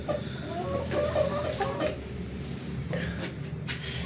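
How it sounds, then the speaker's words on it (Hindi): Golden Buff chickens cluck and murmur close by in short, uneven bursts over a steady outdoor background. "अब हम चलते हैं अपने शामू और गोल्डन बफ के पास"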